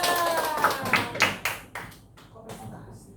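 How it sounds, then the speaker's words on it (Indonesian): Brief classroom clapping for a student in an elementary school maths lesson: a handful of separate claps in quick succession, fading away after about two seconds while a voice is heard. "Berikan tepuk tangan kepada Mbak Lisa"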